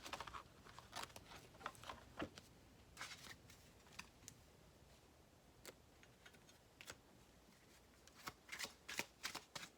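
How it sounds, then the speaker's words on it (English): Angel Therapy Oracle cards shuffled by hand at close range, a quiet run of soft riffling snaps and flicks that come in uneven clusters, denser toward the end. "let me pull an Angel Therapy Oracle card"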